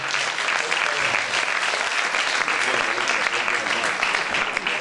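A live audience at a tribute concert breaks into sustained applause, dense clapping that stays loud and steady throughout.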